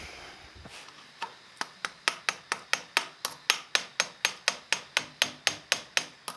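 A chisel is struck with a mallet to cut poplar wood for a katana handle, giving about twenty sharp, evenly spaced knocks that grow steady and loud after a quiet start.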